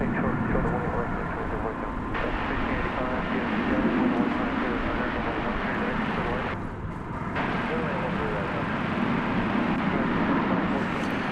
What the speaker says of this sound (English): There goes American Flight 1399 off to San Diego.